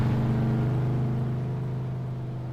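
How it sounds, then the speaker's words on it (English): Video game truck engine pulling a trailer in fourth gear, a steady droning rev with strong low harmonics, loud and continuous, no talk over it. "My God, this truck sounds like a race truck."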